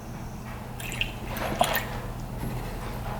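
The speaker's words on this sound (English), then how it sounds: "Alright, so there's quite a bit of coolant in there." Coolant draining from a UTV, heard as close, wet dripping and splattering liquid with a few sharper drops over a steady low hum; no one speaks.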